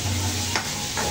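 Masala spices sizzling in a pan for chana masala, a close, steady frying hiss with a couple of brief scraping stirs, no voices.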